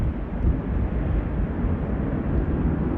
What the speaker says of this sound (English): Off she goes, the Aer Lingus Airbus A330 300 series with them CF6 engines, which are bonkers loud.